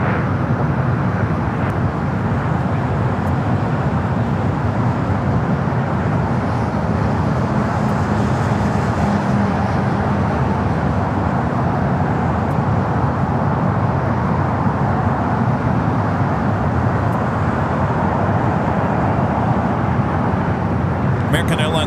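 Jet airliner taking off from runway 25 right at LAX, a steady loud broadband roar of engines and rushing air sustained throughout, with a faint voice beneath.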